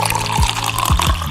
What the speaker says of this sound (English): Why are you pouring it like that?